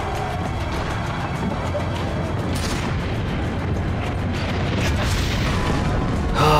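Cannons booming in the Assassin's Creed: Brotherhood game, a continuous loud rumble of heavy blasts and battle noise with no clear pauses.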